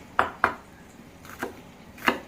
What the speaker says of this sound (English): and then I just kind of chop, chop, chop.